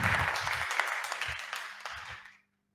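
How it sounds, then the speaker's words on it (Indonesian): Classroom applause from students, a brisk burst of clapping that fades out within a couple of seconds, with a few voices and low thumps underneath. "Tepuk tangan dulu, Rek."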